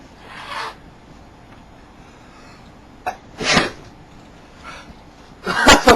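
Several sharp sneezes from one person indoors, a short burst early on, another strong one near the middle and a final loud explosive sneeze at the end, with quiet room noise between.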